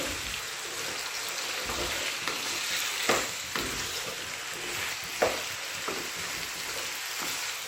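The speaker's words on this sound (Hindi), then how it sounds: "और अब मैं इसमें डालूंगी आलू, मिक्स करके" Potato slices frying in hot oil with green chilies while being stirred, a continuous close sizzle with occasional sharper scrapes and clinks of the spoon against the pan.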